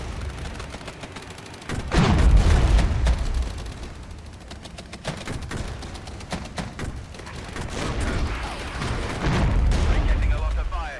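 Battlefield gunfire and artillery in the Cold War tactics game Regiments: continuous crackling small-arms fire with heavy low booms swelling in at intervals. A voice talks over the combat.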